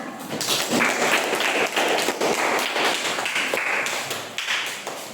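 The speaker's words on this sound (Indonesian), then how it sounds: "Tepuk tangan" Students applaud in a science classroom after a group presentation, a steady, close wash of many hands clapping together that holds for several seconds with little letup.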